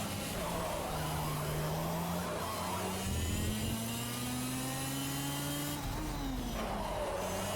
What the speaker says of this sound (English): let's not blow up the engine of the Kart because I almost money shifted there